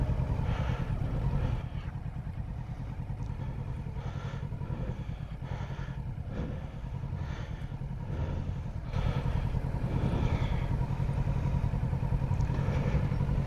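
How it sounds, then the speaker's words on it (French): A motorcycle on a low-speed riding course idles and putters at barely open throttle, the engine sounding close to stalling, with a steady rough rumble over about thirteen seconds and no talk. "Parce qu'à chaque fois, ta moto elle est quasiment en train de caler."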